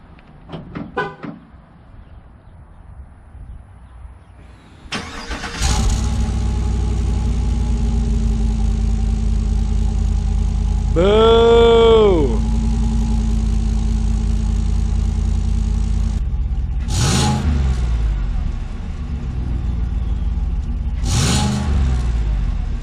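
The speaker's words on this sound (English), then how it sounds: "get a cold start so you guys can hear the before and after" A 2018 GMC Sierra pickup truck engine cranks and fires up from cold on its stock exhaust, settling into a loud, steady idle with a rev rising and falling midway, followed by a couple of brief sharp bursts.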